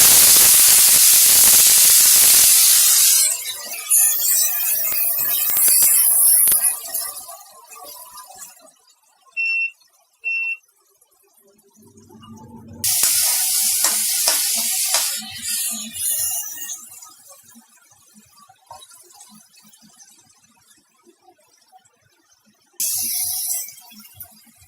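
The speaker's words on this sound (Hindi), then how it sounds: "इसको हम हल्का फ्राई करेंगे।" Ground onion hits hot oil in a pan for paneer tikka, a loud sizzling hiss that starts in a burst, then fades and swells again in waves, with short quiet gaps and a few faint clinks between.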